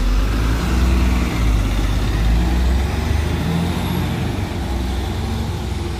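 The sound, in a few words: Connexxion bus 20 arriving at stop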